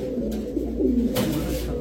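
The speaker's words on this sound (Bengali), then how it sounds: "ওরে ডাক ভিডিওর কাছে ডাকে না, আর এখন দেখেন ফাটায় ফেলতেছে।" A pigeon coos in low, rolling phrases, close and fairly loud over a steady background hum.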